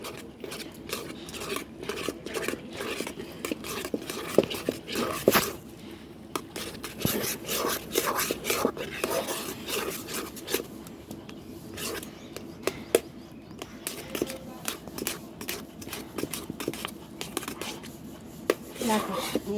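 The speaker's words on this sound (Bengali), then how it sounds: "এই দেখো দিয়ে এবার এটাকে নাড়বো।" Spoon scraping and stirring a thick beetroot barfi mixture of khoa, ghee and cardamom in a pan, making continuous close clinks and scrapes with irregular metallic taps throughout.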